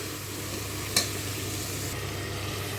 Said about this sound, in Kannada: ಒಂದು ಬೌಲ್ ತರಕಾರಿ ತೊಗೊಂಡಿರೋದು ಒಳಗಡೆ ಹಾಕ್ಕೊಳ್ಳಿ. ಈಗ ಚೆನ್ನಾಗಿ ಫ್ರೈ ಮಾಡಿ.